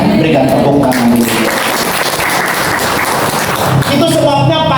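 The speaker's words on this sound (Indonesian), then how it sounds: "Berikan tepuk tangan dulu." A crowd claps together, loud and dense for several seconds, with a voice partly audible over the sustained applause.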